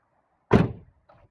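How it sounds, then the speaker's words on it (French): A Mazda MX-5 ND car door shutting with newly fitted door bushings, a single close, solid thunk that decays quickly, followed by a faint brief rattle. "Et franchement, le bruit de la porte, il a changé."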